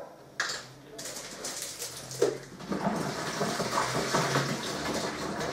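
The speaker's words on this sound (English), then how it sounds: "let's go for our first bottle of mineral water." Bottled mineral water is poured into a home brew fermenter for an English ale kit, making a soft, continuous splashing and gurgling that builds after a brief start, close and moderately quiet.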